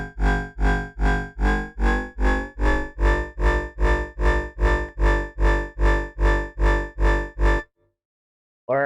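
A bass tone shaped with a frequency shifter in the Phase Plant synth plays as a steady run of about sixteen evenly spaced, loud pulsing notes with no voices, stopping abruptly before a brief final hit.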